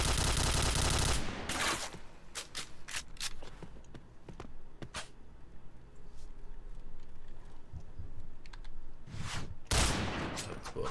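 Gunfire in a PUBG esports match: a dense burst of automatic fire opens, followed by scattered sharp single shots and short bursts at varying distances, then another loud volley near the end.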